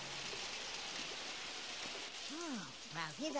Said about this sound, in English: It's a heavy rain as well.